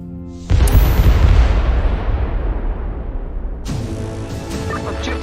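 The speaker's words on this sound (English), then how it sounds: "So this guy should explode." An enemy explodes in a video game, one sudden loud boom that decays into a long rumbling tail, followed by a second crackling burst of debris near the end.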